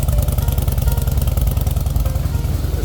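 A 2008 Harley-Davidson Fatboy idles close by, its deep, loud engine thumping in a steady, rapid, lumpy rhythm the whole time, with no other sounds over it.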